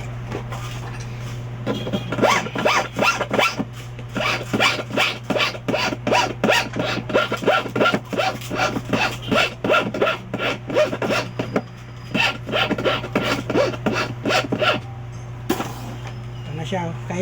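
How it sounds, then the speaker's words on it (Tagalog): Someone at an eyeglass repair shop in Quiapo, Manila files the temple arm of a pair of glasses with rapid, rhythmic rasping strokes, close and loud over a steady hum, with a voice speaking over parts of it. "Kailangan kikilin to para para natutupi pa rin yung tangkay."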